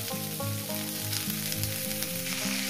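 Cauliflower fries in hot oil in a pan, a continuous close sizzle with faint crackle over a steady tonal hum, no voices.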